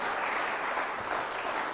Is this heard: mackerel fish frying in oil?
no